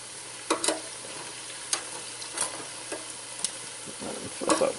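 Homemade tortilla chips frying in hot oil, a steady soft sizzle with sharp clicks and taps as the pieces are flipped over, close up and with nobody talking.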